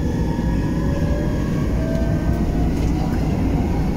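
An MRT Line 3 train runs between stations with a steady, loud rumble of wheels and motors inside the car, joined by faint rising whines and a few soft clanks.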